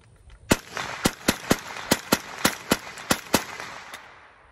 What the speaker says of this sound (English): let's put one in, and let's run another mag through it